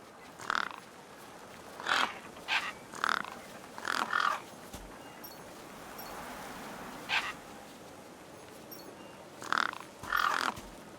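Crows or gang birds in Beyond a Steel Sky caw over a days-old corpse, a string of harsh, fairly close calls in irregular bursts with short gaps, no talk.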